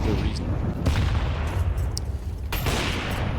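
CS2 esports match with dense in-game gunfire, sustained rattling shots and booming blasts filling the whole moment, loud and continuous, with a few sharper bursts cutting through.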